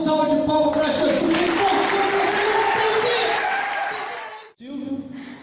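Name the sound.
audience applause at a church seminar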